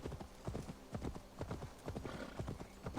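A horse is ridden in the video game Assassin's Creed Valhalla, with a quick, steady clip-clop of hooves in an even galloping rhythm, close and moderately quiet, and no voices.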